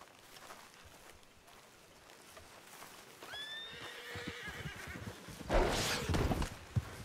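A horse in the RedM game whinnies loudly, a rising and falling neigh near the middle, amid gameplay ambience, with a sharp burst of noise just after.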